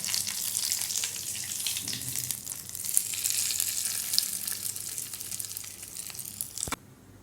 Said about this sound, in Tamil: அடுத்து கருவேப்பிலை வரமிளகாய் போட்டுக்கோங்க.